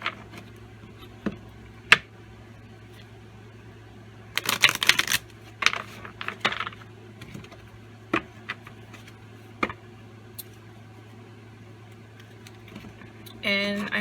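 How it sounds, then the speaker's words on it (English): Tarot cards being shuffled and broken up by hand in a quiet room, giving scattered soft riffling bursts and taps, with one denser flurry partway through and a steady low hum underneath. "Now I'm going to give this a shuffle."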